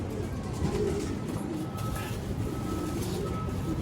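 Pigeons kept in a loft, soft low cooing murmurs rising and falling over a constant background rumble, with a faint voice nearby.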